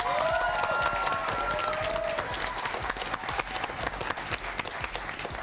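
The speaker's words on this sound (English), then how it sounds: "why don't you lead us in an applause for your coach, who teaches social studies at Carlmont, Miss Patricia Bronstein." Audience applause for a high school quiz-bowl coach, a social studies teacher at Carlmont, ahead of a match against Woodside High School; dense, steady clapping from a crowd fills the hall at a constant level with faint voices mixed in.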